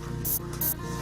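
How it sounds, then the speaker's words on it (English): Two short hissing bursts of spray paint being applied to a barn roof for a Rock City sign, each about a sixth of a second, close and crisp over a low outdoor hum. "Hours of spraying"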